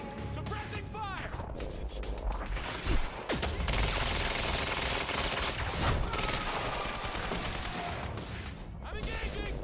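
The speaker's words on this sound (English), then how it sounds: "Suppressing fire!" Heavy suppressing gunfire in the action game Quantum Break, loud overlapping bursts of automatic weapon fire, impacts and crashes filling the whole stretch, with brief shouted voices in the mix.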